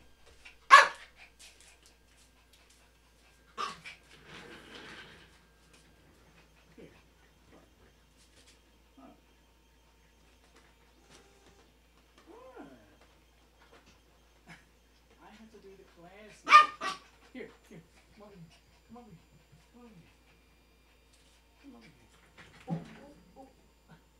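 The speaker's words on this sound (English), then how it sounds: "He's barking so loud." A dog lets out a few loud, sharp barks spread far apart, with quieter voices talking and small household noises in between.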